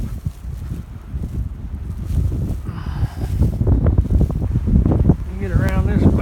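Gusty blizzard wind buffets the microphone outdoors on the way to an outhouse, a constant low roar with rustling and a brief voice sound near the end.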